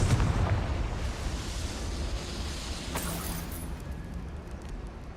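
A Confringo spell explosion in the Hogwarts Legacy video game, a dense roaring burst that rumbles on and slowly fades, with a bright crackle near the end.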